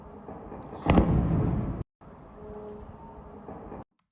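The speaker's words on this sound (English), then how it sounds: "you're going to see a massive explosion right here from a Russian drone in Odessa" A massive explosion from a Russian drone strike in Odesa at night: a sudden loud broadband blast about a second in, followed by a sustained heavy roar and rumble that carries on to the end with no voices.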